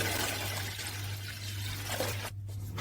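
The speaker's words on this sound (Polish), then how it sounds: "Dodajemy wodę, moi drodzy, i mieszamy składniki razem." Drinking water is poured steadily into a homemade pineapple peel wine mixture, a continuous splashing stream over a low hum that cuts off near the end.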